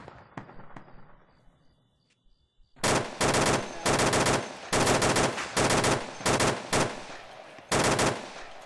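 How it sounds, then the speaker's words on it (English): Sustained bursts of machine-gun fire crack out loud and close during a patrol, following a quieter stretch with a few faint distant shots, the volleys coming in rapid repeated runs. "Where's that shooting coming from?"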